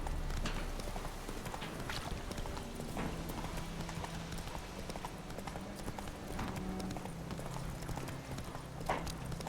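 Steady clip-clop of horse hooves trotting in an even rhythm in the video game The Witcher 3, with a low ambient hum underneath and no one speaking.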